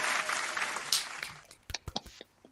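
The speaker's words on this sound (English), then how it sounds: "The very end of the clapping sound, I guess." Clapping sound effect fading out: a dense burst of applause dies away, followed by a few sharp, separate claps near the end, fairly quiet overall.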